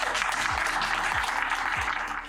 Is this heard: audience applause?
yes